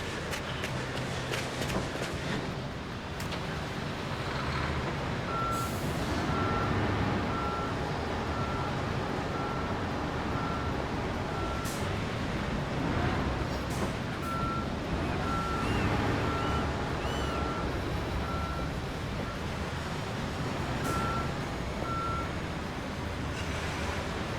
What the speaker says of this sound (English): Now we need our concrete truck.